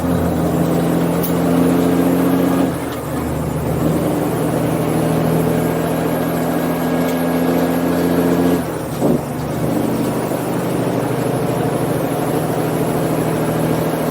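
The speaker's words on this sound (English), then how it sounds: "Throttle pedal engaged." A straight-piped Kenworth C500 truck engine pulls hard under throttle, a loud, steady droning roar that dips briefly twice as it carries on.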